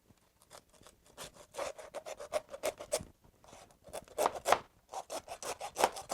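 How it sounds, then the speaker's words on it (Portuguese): Hand saw rasping through a rack of lamb in quick back-and-forth strokes, close and fairly quiet, with an uneven rhythm of bursts and short pauses. "Como eu quero um corte bem bonito, eu vou usar a serra"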